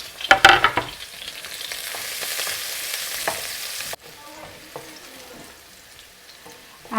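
Chilies fry with garlic in a pan for coriander chilli potato wedges, giving a loud initial sizzle with stirring clatter that settles into a steady hiss, then a quieter crackle.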